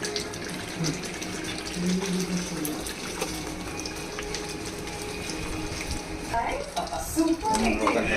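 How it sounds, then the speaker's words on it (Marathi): Mutton and its soup poured into fried masala for a village-style Kanduri mutton, giving a continuous watery rush and splashing sizzle with a few clinks toward the end. "आता आपण मटण आणि सूप ओतून देऊया"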